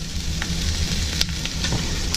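Pork ribs sizzle and fry with sweated, translucent onions in a pan, giving a steady, close crackling hiss with faint stirring scrapes and no talking.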